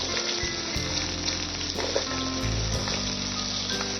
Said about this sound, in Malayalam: സാജീരകം ഇങ്ങനെ പൊട്ടിക്കൊണ്ടേയിരിക്കുന്നു